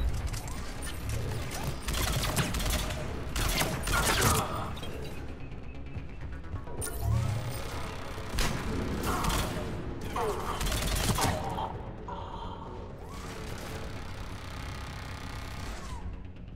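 Mass Effect 3 combat fills the scene with rapid bursts of in-game gunfire and mechanical clatter, rising and falling in dense volleys between quieter stretches.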